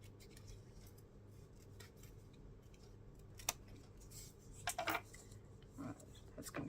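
Paper being cut with scissors for a mixed media art piece: soft, close snips and rustling at an uneven pace, with a few sharper crisp cuts and handling sounds near the end, quiet overall.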